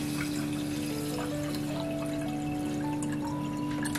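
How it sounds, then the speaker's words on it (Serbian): Clean water pours onto rice in a container, a steady close trickle and splash with a low hum beneath it. "U pirinač ćemo zatim da sipamo čistu vodu."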